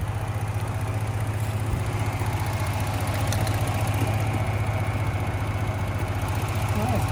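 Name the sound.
car engine idling, shaking 3.5 engine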